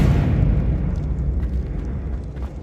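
A Confringo fire spell explosion in the video game Hogwarts Legacy, a heavy deep boom that rumbles and slowly decays with faint crackling debris in the tail.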